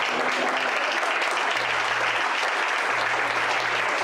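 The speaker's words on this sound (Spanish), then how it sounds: "Den un aplauso al Señor en esta noche." Applause fills a Spanish-language church prayer service, a dense, steady wash of clapping from the congregation that holds evenly for about four seconds.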